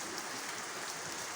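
Steady rain falling on a rainy day, a soft continuous hiss of drops heard briefly and faintly, with no voices.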